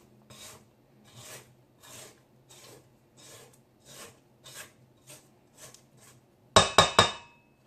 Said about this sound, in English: I'm going to cut it off and just scrape down the sides and make sure everything is